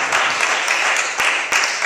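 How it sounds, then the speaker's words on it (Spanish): A church congregation gives loud applause during a sermon, dense clapping with a few sharp, close hand claps standing out over the steady wash. "Dale un fuerte aplauso a su gloria"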